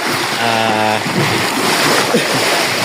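Sea water washes and splashes around a motorboat crossing open, deep water, with a short steady engine-like hum early on and broad, continuous surf noise filling the rest.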